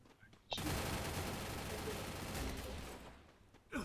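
Gunfire in the video game Free Fire: after a short quiet start, a loud, dense burst of rapid shots holds for nearly three seconds and then fades, with a final sharp hit at the end.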